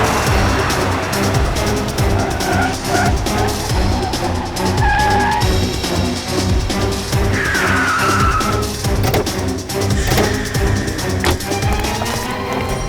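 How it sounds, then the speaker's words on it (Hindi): A car overtaking another in a chase scene from a crime drama, a loud steady engine roar with tyres squealing and skidding across the passage, close and continuous, with no talking. "मैं इस कार को ओवरटेक करता हूँ, नीचे उतरते ही घेर लेंगे"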